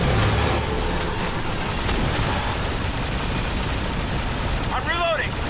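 Dense gunfire and explosive blasts from the squad shooter The Bureau: XCOM Declassified, a continuous loud barrage under a brief chirping electronic sweep near the end, with speech likely mixed in.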